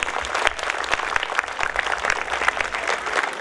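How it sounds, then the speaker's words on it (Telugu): Parents at a school annual day applaud loudly together, a dense and sustained crowd clapping close by that keeps an even intensity with no voices over it. "పేరెంట్స్ అందరూ ఒకసారి తండ్రి గారి క్లాప్స్ కొట్టండి, గట్టి కొట్టాలి"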